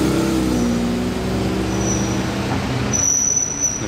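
A Porsche 992 GT3 RS passing at night in Monaco, a steady loud engine roar with road noise throughout, no clear rise or fall, with a faint high whine toward the end.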